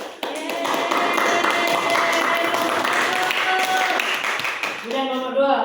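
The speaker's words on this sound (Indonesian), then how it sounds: "Beri aplaus dulu" Classroom audience applauding a student group after its presentation, dense clapping from many hands held steady for several seconds before a voice begins speaking at the end.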